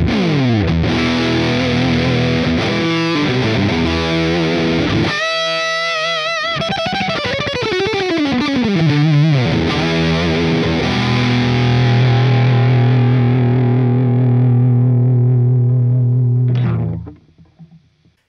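Electric guitar played through a Mars SL75 amp preset with an SD1-style overdrive boost, heavily distorted: loud chugging riffs, sliding notes and sustained chords ringing out, then cut off to silence.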